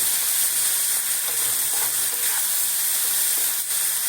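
Mushrooms frying and giving off water in a pan, a constant loud sizzle and hiss close up, with faint spatula scrapes as they are stirred.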